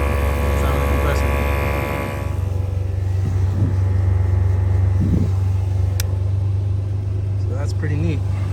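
An ARB air compressor runs on a second-generation Toyota Tacoma, giving a steady, droning mechanical hum throughout while a person talks over it.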